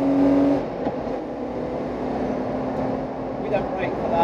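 A modified BMW 323 E36 on the Nürburgring drones steadily at speed with a sustained engine hum and road roar, fairly constant in level, with a voice briefly present.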